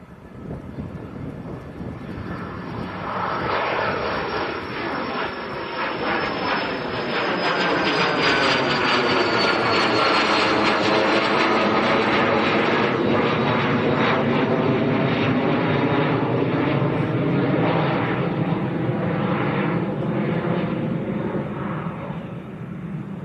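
A Cessna Citation business jet takes off at Manchester Airport, its engine roar swelling from a distant rumble to a loud, sustained whine and rush that holds steady for many seconds before easing slightly.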